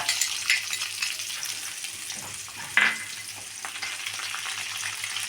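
Sliced onion and curry leaves fry in coconut oil with a continuous close sizzle, broken by a few light spoon taps and one sharper clink partway through.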